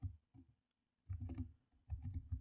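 Typing on a computer keyboard, entering Python code on a command line: quiet, close bursts of key clicks separated by short pauses.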